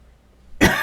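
A man gives a single sharp, close cough that bursts out abruptly after near silence.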